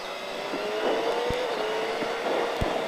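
A motorcycle on a race circuit at La Ferté-Gaucher holds a steady, moderately distant engine drone whose pitch shifts slightly as it rides through corners.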